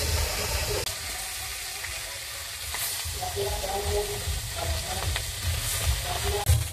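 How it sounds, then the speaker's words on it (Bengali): Snakehead (shol) fish frying in a pan of hot oil, a steady crackling sizzle with intermittent louder spatters, close up and continuous with no talking. "এইদিকে মাছ ভাজা হচ্ছে"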